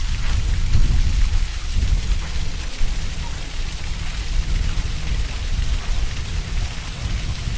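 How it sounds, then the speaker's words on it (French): Heavy rain pours down steadily with deep thunder rumbling through it, loud and close, a dense continuous wash of sound. "C'est alors qu'on commença à entendre le tonnerre gronder. Puis la pluie tombait."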